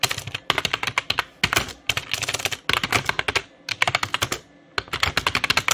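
Rapid bursts of typing on a computer keyboard as a search query is entered, close and steady with brief pauses between runs of keystrokes.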